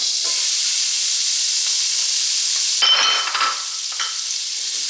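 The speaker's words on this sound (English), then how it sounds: "I'm going to quickly saute some vegetables in this skillet." Diced red bell pepper sizzles steadily in a skillet of hot olive oil and butter, a dense bright hiss with brief scraping stirs partway through, close and fairly loud with no voices.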